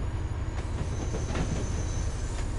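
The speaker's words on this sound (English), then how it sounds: "the train that I'm actually driving going towards Worcester" A train in the Train Sim game runs toward Worcester with a steady low rumble and faint rhythmic wheel clatter, continuous and moderately loud, no talk.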